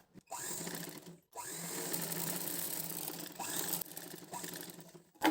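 A sewing machine stitches fabric for a baby frock, running in steady whirring bursts with a short pause between runs, close and fairly quiet.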